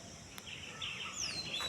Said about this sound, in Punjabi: ਆ ਦੇਖੋ ਜੀ ਪੰਛੀ